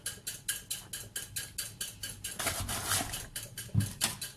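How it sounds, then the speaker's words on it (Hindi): Flour, sugar and eggs being mixed in a bowl for homemade raspberry ice cream: a steady run of quick, close clinking taps of a utensil against the bowl, evenly paced, with one louder knock near the end. "इसको अच्छी तरह जो है मिक्स कर लेना"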